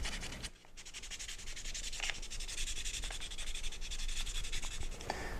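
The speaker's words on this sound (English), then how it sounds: "So that 400 grit really ends up polishing the front of this" Fine 400-grit sandpaper is rubbed along the front edge of a kitchen knife handle in quick, even, close strokes, a continuous soft hiss with slight pulsing.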